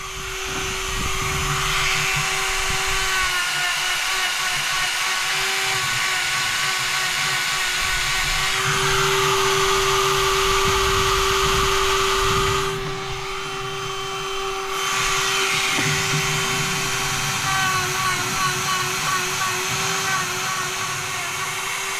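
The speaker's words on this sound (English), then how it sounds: "I'm going to attack them with the Dremel in a moment" Dremel rotary tool smoothing parts during a Citroen C3 engine rebuild, a steady high whine running continuously at close range for over twenty seconds with brief changes in load and pitch.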